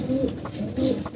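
Pigeons coo close by, two soft throaty low calls repeating in a short rhythmic phrase.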